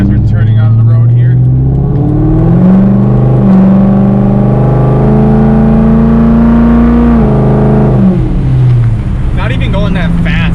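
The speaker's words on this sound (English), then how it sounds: "This thing just sounds like a monster as we're turning on the road here." A loud 500 hp Corvette drives while turning on a road, its engine roaring up and down in a deep steady drone close by, while a person talks over it.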